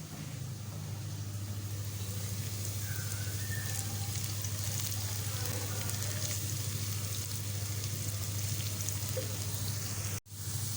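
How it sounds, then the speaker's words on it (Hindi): Onions frying in a pan for a home-cooked dish, turning light brown: a steady, loud sizzle and crackle runs throughout with no talking, cut by a brief pause near the end. "आप देख सकते हैं प्याज लाइट ब्राउन होना शुरू हो गए हैं।"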